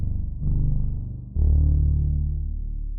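A deep, plain synth bass plays sustained low notes, two held tones with a brief dip between, dry and loud.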